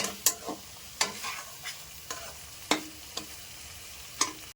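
Pui mituli chorchori, a Malabar spinach dish, is stirred in a frying pan over a soft sizzle. Sharp scraping strokes of the spatula come roughly once a second, close and distinct, with no talking.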